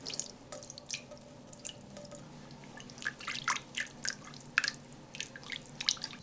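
Water splashes and trickles into a pan of melted margarine and flour in short uneven bursts, close and fairly quiet, with small drips between.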